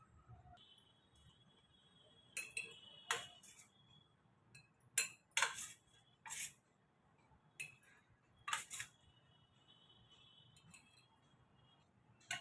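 Homemade instant raw mango pickle spooned into a small glass jar: a series of sharp, bright clinks and taps of a spoon against glass at irregular intervals, fairly close, over a quiet background.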